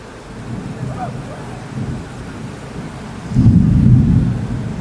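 Thunder from a storm near Bordeaux rolls as a low, continuous rumble with steady rain noise, swelling louder around the last two seconds; a voice may be faintly present.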